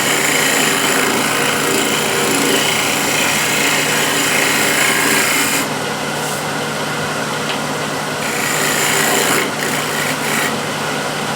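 A shear scraper works over a wooden surface, giving a continuous bright rasping scrape that breaks off briefly a few times near the end.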